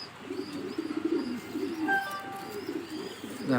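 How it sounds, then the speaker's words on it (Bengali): Racing pigeons cooing close by, with soft repeated low coos and a few brief higher chirps in a quiet setting. "এই মাদিটা খুব চমৎকার একটা কবুতর"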